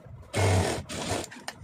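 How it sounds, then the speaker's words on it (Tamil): A sewing machine stitches chudithar semi-patiala pant fabric in two short, close, rapid bursts, the first longer than the second. "இப்போ இதை அப்படியே இதில் தையல் போட்டுருவோம்"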